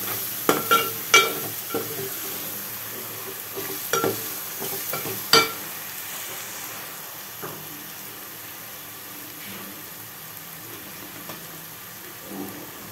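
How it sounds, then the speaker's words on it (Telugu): Coriander powder frying with ginger in a pan, heard as soft sizzling with a few sharp stirring scrapes and clinks early on that thin out to a quiet, steady fry. "ఇది అల్లంతో పాటు వేగుతుంది."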